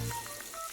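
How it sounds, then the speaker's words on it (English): A paste of yellow mustard seed, chili, ginger and garlic frying in oil for a taro stem dish; a quiet, steady sizzle with faint clinks, heard close and alone. "So here we need to fry it very properly."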